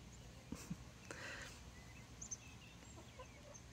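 A hen clucks softly nearby on a farmhouse front step, a few low, scattered clucks over a quiet outdoor background, faint and spaced apart.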